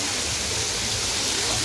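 At Happy Land water park in Jhapa, flowing water rushes in a loud, steady, unbroken roar close by.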